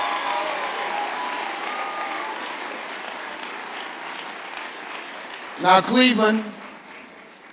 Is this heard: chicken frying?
no